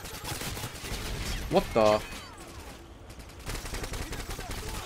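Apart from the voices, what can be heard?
gunfire from Scar-H rifle in Call of Duty: Modern Warfare 2 video game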